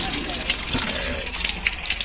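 Water gushes from a tap in a building after frozen pipes have thawed, a steady close rushing flow with a bright high hiss and slight rattling, running for a couple of seconds.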